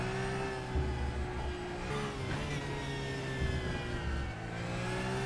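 A Porsche race car engine in the Raceroom racing video game drones and revs steadily under load, with rising and falling pitch through gear changes, sustained and fairly loud throughout.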